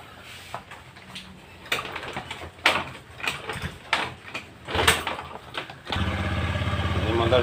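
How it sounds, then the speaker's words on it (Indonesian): Honda Beat motorcycle with a charging fault, a few cranking and clunking attempts under speech before the engine catches and settles into a steady close idle. "Coba kita akan hidupkan motornya."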